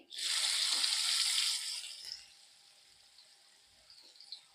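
Onion dropped into hot oil for a stuffed kantola curry, a sudden loud sizzling burst that holds for about two seconds, then settles into a quiet, faint frying hiss.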